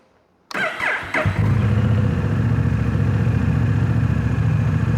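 A 2023 Honda Rebel 1100T motorcycle engine starts after a brief starter crank and a short hush, then settles into a loud, steady, smooth idle close by.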